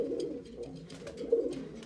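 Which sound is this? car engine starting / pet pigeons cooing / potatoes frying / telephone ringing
pet pigeons cooing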